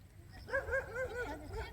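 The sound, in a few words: stray dog barking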